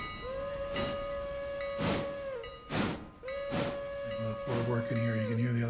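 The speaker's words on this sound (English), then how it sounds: "You can hear the other engine whistling." Another steam locomotive's whistle sounds in the background at a North Carolina railroad, two long steady blasts broken by softer hissing bursts, with a rumbling tone entering near the end.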